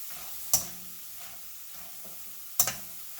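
Nopal cactus chips frying in a pan on medium heat, a faint steady sizzle punctuated by two sharp clinks of a utensil against the pan.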